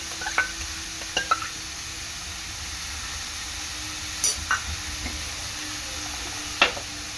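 Chopped onions with bay leaf cook in a pan for an Agri-Koli style chicken curry: a soft, steady sizzle runs throughout, broken by a few short scraping stirs of the spoon.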